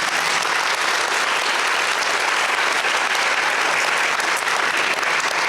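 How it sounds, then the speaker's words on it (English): Sustained audience applause at an evening civic event on defending democracy, a dense, steady wash of many hands clapping that holds at full strength throughout with no pauses. "Round of applause."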